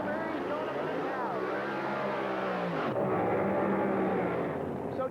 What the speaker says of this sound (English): Mr. Dave Dudley with his Hemi-powered 1948 Fiat Topolino